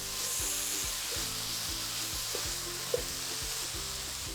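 Beef fry sizzling in a pan in a Kerala kitchen, a steady soft crackle and hiss with a few faint stirring clinks, moderately close and fairly quiet. No speech.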